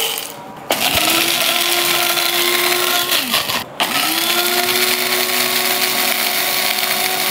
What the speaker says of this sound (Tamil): இப்போ நான் இது அகாராவோட காஃபி கொட்டை அரைக்கிற மிஷின் தான் இது.